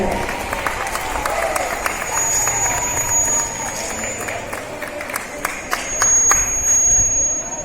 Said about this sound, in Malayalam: എല്ലാവരും കൈയടിച്ച് പ്രോത്സാഹിപ്പിക്കാം